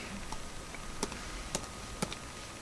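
Sparse keyboard clicks from desktop computer typing: a few isolated taps spaced about half a second apart, faint over a steady background hiss, with no voices.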